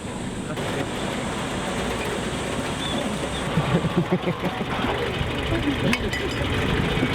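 A tractor engine runs on a farm in a Polish village beside a small stream, giving a steady low rumble that continues under people talking.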